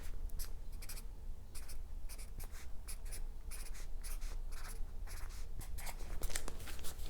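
Pen scratching out numbers on paper in quick bursts of short strokes, close and steady with brief pauses between figures, no talking.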